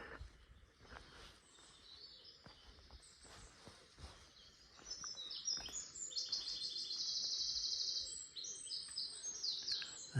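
Birds singing in St Lawrence Undercliff woodland along a closed-off road on an April morning, with high bright trills and chirps growing busier, some near and some distant, over soft footsteps and rustling.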